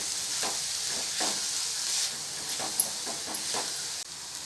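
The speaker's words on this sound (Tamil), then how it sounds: "எல்லாத்தையும் சேர்த்துட்டு இதை கலரி கொடுத்துடலாம்." Beetroot poriyal sizzling in a pan as it is stirred with ground roasted spice powder, a steady frying hiss broken by scraping strokes of the spoon, close and without speech.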